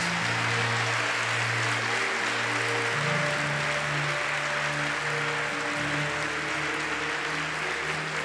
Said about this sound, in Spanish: Puedes darle un aplauso con tus manos levantadas.